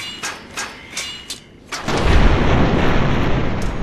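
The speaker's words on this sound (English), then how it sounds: "That made quite an explosion." An explosion in Fallout: New Vegas arrives as a loud rumbling blast that rolls on and decays slowly, preceded by several sharp gunshot-like cracks.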